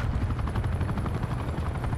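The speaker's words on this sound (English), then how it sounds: "I got an attack chopper out of a care package" An attack helicopter in Call of Duty thunders with loud rotor thumping, mixed with bursts of machine-gun fire, dense and close with no speech.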